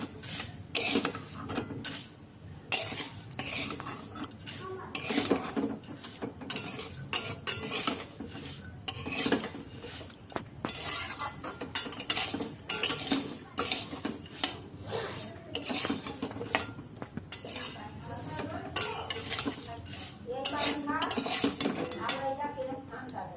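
A metal spoon scrapes and clinks repeatedly against a pan while flattened rice fried with chanachur is stirred. The strokes are brisk and irregular, close and clear over a faint background hiss.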